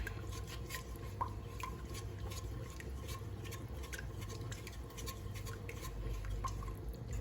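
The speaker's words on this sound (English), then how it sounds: "we're gonna keep stirring until it thickens up" Quiet, steady scraping of a spoon stirring thickening brown stew chicken sauce in a pot, with soft irregular clinks and a low background hum.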